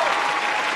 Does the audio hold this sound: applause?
yes